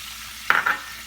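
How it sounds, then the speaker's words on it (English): Wine hits a hot pan for spaghetti alle vongole, giving a sudden sharp hiss that bursts loudly, pulses once more and fades into a soft sizzle, with no talking. "I'm going to pour in the wine."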